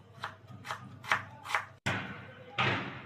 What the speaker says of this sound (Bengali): আট কোয়া মতো রসুন নিচে চারটে কাঁচা লঙ্কা আর খানিকটা ক্যাপসিকাম এবার এগুলোকে কুচি করে নেব